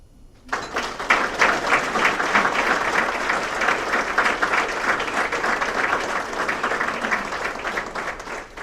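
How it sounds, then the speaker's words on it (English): Applause at a 2023 sports alumni banquet breaks out after a brief quiet start, then holds as dense, steady clapping from a large audience for the rest of the stretch. "Please give a strong round of applause to Henry"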